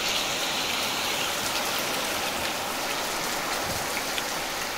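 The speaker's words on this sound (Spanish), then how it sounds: "Acaba de llover acá en el parque" Steady rain falls in a park in San José de Chiquitos, a dense continuous hiss of drops on surfaces with no pauses and no voices.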